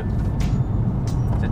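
A car driving on the road to a studio gives a steady, close low rumble of engine and road noise, with a couple of faint hissy swells passing over it.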